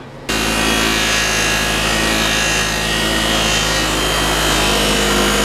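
A steel motorcycle exhaust part is pressed against a powered buffing wheel, starting abruptly into a loud, steady abrasive whir with a constant hum that holds to the end.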